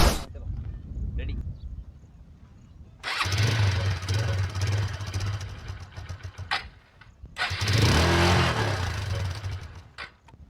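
A motorbike engine cranks and starts, then revs hard in two long loud bursts separated by quieter idling, with a lower rumble throughout; someone talks briefly near the start.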